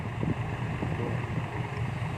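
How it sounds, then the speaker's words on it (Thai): Heavy evening rain and strong wind make a steady low roar with gusty rumble buffeting the microphone, loud and continuous with no talking. "ฝนตกครับนี่ ลมแรงเลยครับ"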